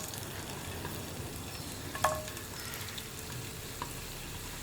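Ginger pieces fry in hot sesame oil in a pan, giving a steady close sizzle with a brief louder crackle partway through and no talking.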